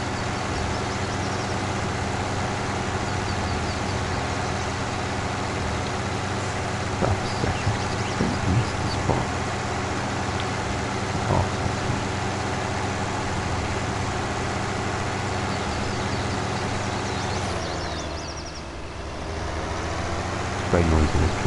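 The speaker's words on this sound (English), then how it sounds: "Very noisy, this tractor." A tractor engine in the farming game Farming Simulator 19 drones steadily and loudly throughout, a constant mechanical hum that briefly dips near the end before returning, with a voice talking at times over it.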